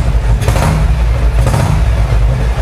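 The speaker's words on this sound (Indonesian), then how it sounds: "Kita coba tarik gasnya ya." Engine of a 1956 Norton S2 500 motorcycle held close and loud, its throttle opened in two or three swelling revs over a rough, steady low running note, with no speech.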